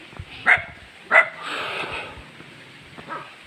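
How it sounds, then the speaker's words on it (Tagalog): Dogs greet arriving visitors on a rural mission trek with two sharp, close barks about half a second apart. A softer whimpering whine and faint rustling follow. "May mga aso po nag-welcome sa atin."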